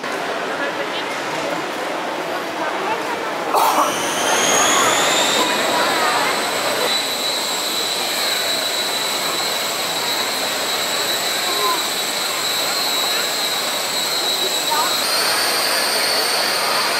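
A model helicopter engine starts up at a model-building fair, a high, steady whine holding its pitch over a constant noisy background, like a small turbine spinning nearby.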